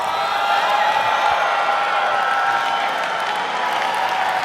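Large crowd applauding and cheering at a games showcase, a continuous dense roar of claps and voices at steady loudness filling the whole stretch.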